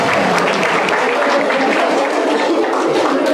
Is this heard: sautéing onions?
no